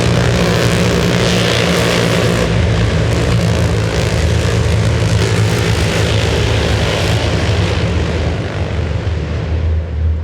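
Loud, continuous rotor and engine roar from MH-60 military helicopters flying close overhead during a special operations demonstration, a steady heavy drone that eases slightly toward the end.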